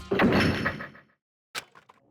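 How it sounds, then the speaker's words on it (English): A data center door in the Danganronpa video game shuts with a heavy thunk that rings briefly, then after a short pause a sharp click and smaller clatter as it locks. "As soon as the door to the data center was closed, I heard a strange sound."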